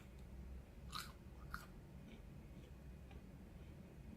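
Crunchy Burger King onion rings are bitten and chewed, giving two faint crisp crunches about half a second apart over a quiet background.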